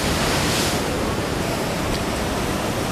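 Strong ocean surf roars steadily and loudly throughout, a dense, continuous wash of breaking waves with no pauses and no voices.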